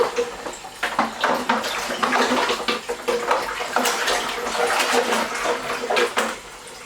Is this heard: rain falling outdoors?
no